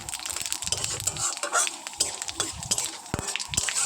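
Bay leaf and panch phoron spices crackling as they fry in oil, mixed with clattering utensil scrapes and knocks against a pan, irregular and close.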